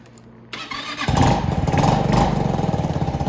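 A Venom X22GT 250cc automatic motorcycle engine, just fitted with a new ignition, cranks briefly then catches and settles into a steady, close, pulsing idle with no talking.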